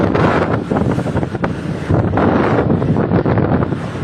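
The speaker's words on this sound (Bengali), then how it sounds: "অবস্থা কি পরিমাণ ঢেউ এবং বাতাস" Strong wind buffets the microphone with a loud, continuous roar at a turbulent river ghat, with a rough wash of choppy water beneath it as rain approaches. No voices are heard.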